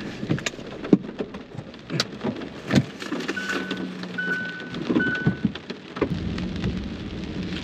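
Heavy rain pours steadily with rumbles of thunder rolling through, while scattered raindrops hit nearby surfaces and a car passes in the background.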